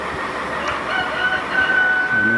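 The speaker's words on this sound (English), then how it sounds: "if you look closely, you might find roosters and chickens and ducks" At a family hospital in Guatemala, roosters crow over dense outdoor background noise, with one long, steady call standing out in the second half. The sound is moderately distant and busy with ambient rumble.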